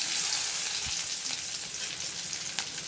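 Onions sautéing in a pan for palak keerai, a steady close sizzle of frying with a few soft scrapes of stirring, no voices.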